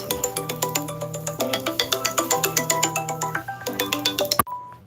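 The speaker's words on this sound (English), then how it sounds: "So that's her trying to video call me" Phone ringtone from an incoming video call in Age of Z, a loud, rhythmic electronic melody of repeated bright notes that stops abruptly near the end.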